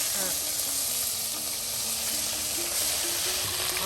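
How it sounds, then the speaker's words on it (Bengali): Chepa shutki, fermented dried fish, frying in hot oil, a steady loud sizzle and crackle running throughout with faint stirring underneath. "এখন চাপা গুলা তেলে দিয়ে ছেড়ে দিন। বাহ, বেজে নেওয়া হচ্ছে।"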